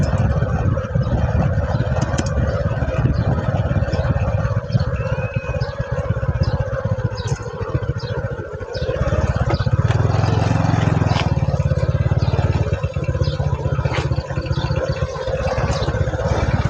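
A farm tractor's engine runs steadily in a rural village, a loud, continuous low rumble with a rough mechanical chug that holds throughout, with faint background voices and clatter.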